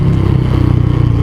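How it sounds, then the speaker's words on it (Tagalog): A Bajaj Dominar motorcycle engine idles loud and close after a 30,000 km service, with a steady, even mid-low rumble and a fast regular pulsing throughout. "Ang ganda na ulit ng takbo ng motor ko. Dumadamba-damba na ulit siya."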